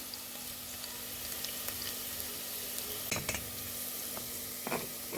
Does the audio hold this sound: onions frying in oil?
yes